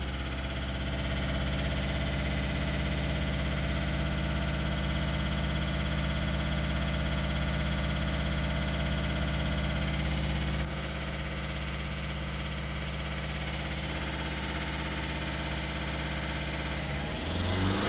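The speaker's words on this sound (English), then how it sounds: "you can hear it. It's doing some form of acceleration, blips, and maybe averaging the values" A VW engine (code CAYE) idles steadily during injector compensation adaption, with a constant loud hum that shifts in pitch partway through and rises in a brief blip near the end, with no talking.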